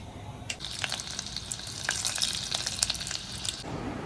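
Spices crackle and sizzle sharply in hot oil while tempering dal in a home kitchen, a bright continuous spatter with popping bursts that ends abruptly after about three and a half seconds.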